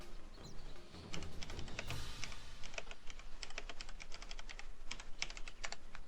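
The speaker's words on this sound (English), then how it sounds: "That's a whole lot of typing." Steady, rapid typing on a computer keyboard fills the whole stretch, with dense clicking keystrokes heard close up over a faint background hum.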